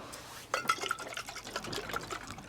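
A bottle of carrot juice is shaken up close, giving a loud, busy sloshing of liquid that starts abruptly and churns on without pause.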